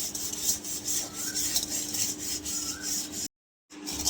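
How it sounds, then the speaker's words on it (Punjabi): A burnt iron kadai is scrubbed with amchur powder, giving a continuous close gritty rasping and rubbing with a rhythmic back-and-forth pulse, broken by a brief silent gap near the end. "ਤੇ ਦੇਖੋ ਜੀ ਕਿੰਨੀ ਵਧੀਆ ਸਾਫ਼ ਹੋ ਰਹੀ ਆ ਆਪਾਂ ਬਿਲਕੁਲ ਇੰਨਾ ਇਹਨੂੰ ਰਗੜਿਆ ਵੀ ਨਹੀਂ"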